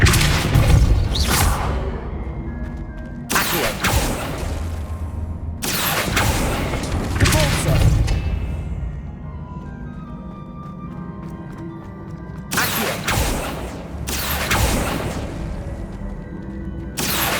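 Depulso force spells blast repeatedly in Hogwarts Legacy, a series of loud booming whooshes and thuds in irregular bursts over a background game score.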